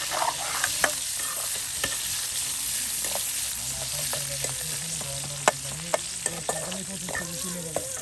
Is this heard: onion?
yes